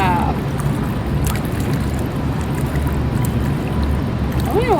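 Feet in North Face Thermoball Lifty 400 winter boots swish through water, producing a steady, close sloshing and gurgling wash that runs continuously for a few seconds.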